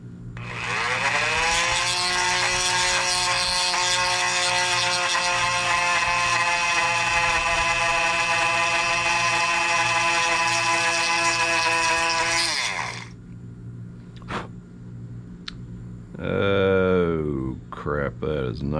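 A small power drill bores into a bolo tie tip, whining at a high steady pitch for about twelve seconds before stopping, then briefly spinning up again with a rising and falling whine.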